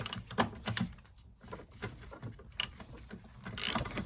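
A hand wrench clicks in short, uneven ratcheting bursts as it snugs up the oil filter housing on a Toyota RAV4 during a DIY engine service, close and fairly quiet.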